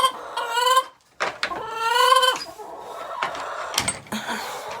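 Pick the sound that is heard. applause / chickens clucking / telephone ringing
chickens clucking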